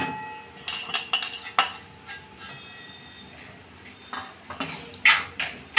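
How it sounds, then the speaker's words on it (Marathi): A spoon scrapes and clinks against a pan while poha with peanuts is stirred for aloo poha, giving irregular metallic taps and scrapes over a low background hiss, near and clear. "याला मिक्स करून घेऊया पोह्याला"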